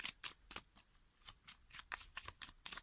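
Tarot cards being shuffled in the hands, a quick series of soft riffling bursts, close and fairly quiet, with no talking.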